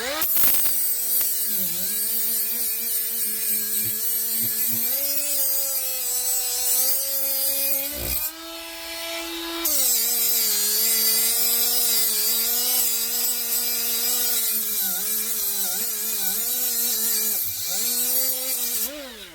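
Milwaukee M12 right angle die grinder grinding into a cast iron edge, a loud high-pitched whining motor whose pitch dips and recovers as it bites into the metal, with a brief pause midway and no talk.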